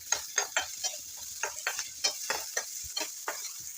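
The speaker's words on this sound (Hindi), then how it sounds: "अब इसे भी 1 सेकंड के लिए इसे भून लेंगे।" Crushed garlic, ginger and green chili fry in a pan, a steady close hiss broken by repeated scraping stirs in a loose rhythm, with no voice.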